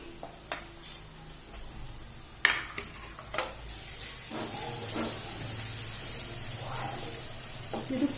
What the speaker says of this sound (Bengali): যেহেতু পেঁয়াজটা রসুনটা ভাজা ভাজা হয়ে গেছে